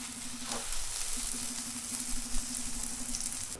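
A vegetable omelette cooks in a pan with butter, giving a steady soft sizzle and crackle up close, with a faint continuous hum underneath.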